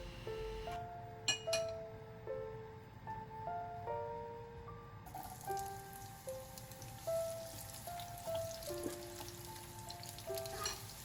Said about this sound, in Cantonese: 燒熱啲油，爆香紅葱頭